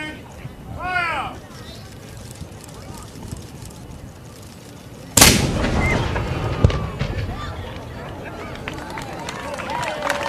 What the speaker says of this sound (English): Prepare to fire number 5! And fire!